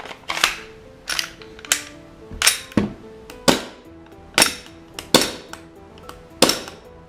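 An airsoft Glock 17 pistol fed from a Tokyo Marui magazine fires about ten sharp, loud cracks at irregular intervals, each a crisp snap of gas blowback with a short mechanical clack in between.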